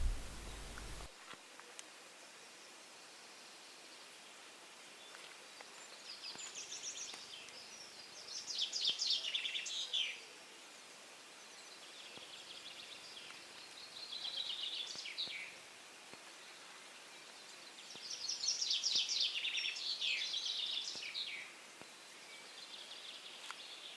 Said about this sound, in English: I'm going to shut up and let the birdsong tell it all.